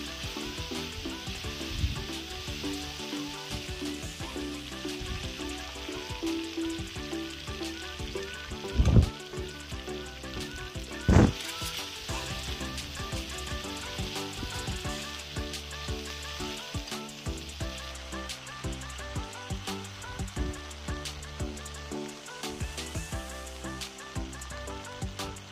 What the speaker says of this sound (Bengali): শুকনো লঙ্কা বাটা দিয়ে ভালোভাবে ভেজে নিতে হবে।